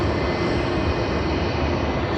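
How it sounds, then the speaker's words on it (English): An Emirates A380 jet taxiing to runway 34 left at Sydney Airport, its engines giving a steady, loud broadband roar that holds level throughout with no talking. "Emirates A380 EK412 taxiing to runway 34 left for its flight to Christchurch, New Zealand."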